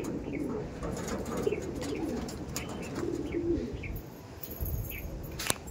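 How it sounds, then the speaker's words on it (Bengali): Pigeons of the Andhra Madras breed coo in soft, repeated low murmurs close by, overlapping in a loose rhythm, with a few light chirps and a sharp click near the end. "নরগুলো দেখুন কত সুন্দর পায়রা আছে"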